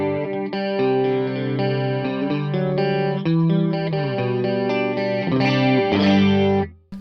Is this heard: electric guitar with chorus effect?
yes